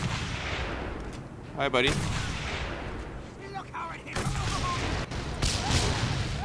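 Gunfire and heavy impacts in the Mad Max game, with several loud bursts and booms over a rumbling background, mixed with a player's brief talk.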